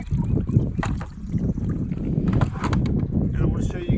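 Kayak paddling on a Vibe Shearwater 125 with its Mirage Drive pulled up, out in gusty wind: steady rumbling wind buffeting and water sloshing with paddle strokes throughout, close to the microphone.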